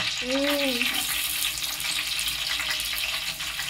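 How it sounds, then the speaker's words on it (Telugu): Chopped onions for chicken biryani fry in a pot with a steady, loud sizzling hiss that fills the whole clip, and a brief tonal squeak is heard near the start. "ముందుగా కట్ చేసి పెట్టుకున్న ఆనియన్స్ని వేసి బాగా వేయించుకోవాలి"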